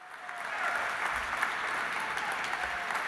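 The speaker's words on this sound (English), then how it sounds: "Let's give Michael Berenbaum a big round of applause." Audience applause at an Auschwitz exhibition opening evening, a steady, fairly soft wash of many hands clapping continuously from start to finish with no voices over it.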